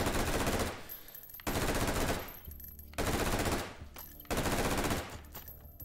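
An automatic rifle fed from a 100-round Stanag magazine in Hot Dogs, Horseshoes & Hand Grenades fires four long, loud bursts in rapid succession. Short pauses separate the bursts.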